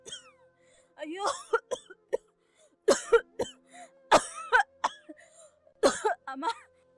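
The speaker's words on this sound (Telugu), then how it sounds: "ఎవరో దగ్గుతూ బాధపడుతూ ఉన్నట్లు ఉంది కదా?" Repeated coughing fits from a person near a gate, several harsh bursts in clusters with brief pauses between, fairly close and clear over a quiet background with a faint steady hum.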